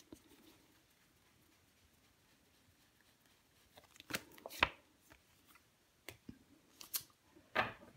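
Tarot cards handled on a table: a quiet stretch, then several crisp papery slaps and shuffling swishes as cards are moved and laid down, close and distinct, with no talk.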